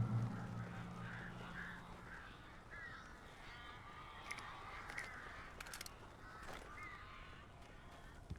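Crows in the video game Alan Wake caw repeatedly against a quiet, faint ambient background, their harsh calls scattered and mid-distance with no speech.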